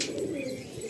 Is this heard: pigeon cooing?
yes